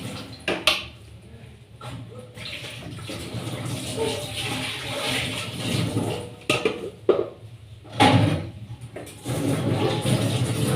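Dishes being washed under running water at a kitchen basin after dinner, with a steady splash and rush of water broken by a few sharp clinks and knocks of crockery, fairly close and continuous.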